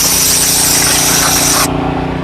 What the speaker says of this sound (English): then you grab your blower